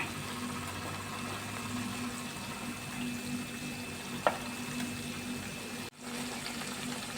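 Rava vada fry in oil over a medium flame, giving a continuous soft sizzling hiss with one sharp clink midway and a brief dip in the noise near the end.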